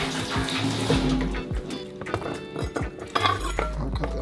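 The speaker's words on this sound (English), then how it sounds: "First, I'm going to rinse it." Celery being rinsed under a running kitchen water tap, a steady splashing stream with occasional clinks and knocks, close and fairly loud.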